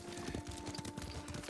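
Horse hooves in Ghost of Tsushima, a steady rhythmic clopping of a ridden horse at a trot, close and moderately loud under ambient game sound.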